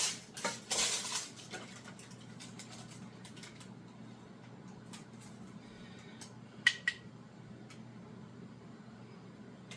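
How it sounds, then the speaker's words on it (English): A metal baking sheet is handled in a kitchen while fresh parchment goes in for chocolate-covered frozen fruit treats, with a cluster of clattering and rustling up front, then quiet shuffling and a couple of sharp metallic clicks. "I'm just taking that sheet out, putting a clean piece of parchment in here."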